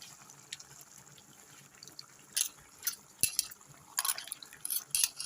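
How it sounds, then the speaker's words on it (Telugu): Tamarind juice poured into a pot for a fish and tomato stew, soft splashing and trickling in uneven bursts over a quiet room. "చింతపండు పులుసు ఇలా పోసుకోవాలండి"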